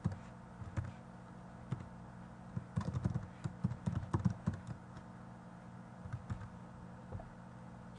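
Typing on a computer keyboard while filling in admin and email fields for a WordPress setup, with scattered soft key taps building into a denser burst of clicks in the middle, close and quiet with no talking.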